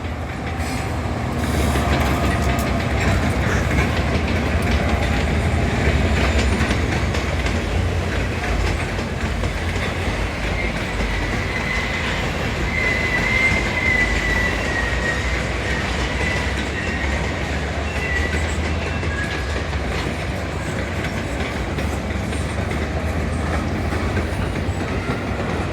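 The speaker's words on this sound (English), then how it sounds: "a three-way meet involving an Amtrak ballast train, a New Jersey Transit commuter train, and a SEPTA multiple unit set" Trains pass through a busy interlocking in a three-way meet of an Amtrak ballast train, a New Jersey Transit commuter train and a SEPTA multiple-unit set, with a loud, steady rumble, clickety-clack of wheels and a brief squeal, without voices.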